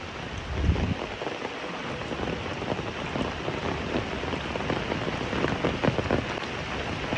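Heavy, steady rain pours down during a flood at a house, a dense continuous hiss of drops on surfaces with no let-up, close and loud throughout.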